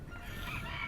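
Farm hens clucking and softly crowing in a brief burst, close and moderately loud, with no speech over it.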